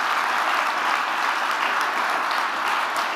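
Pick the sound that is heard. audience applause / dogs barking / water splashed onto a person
audience applause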